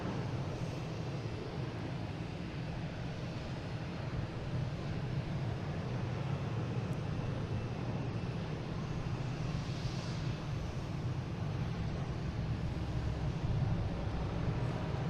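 A JetBlue Airbus A320 taking off from Boston Logan sends a steady, far-off jet roar that builds a little as it goes, with light wind noise and no speech.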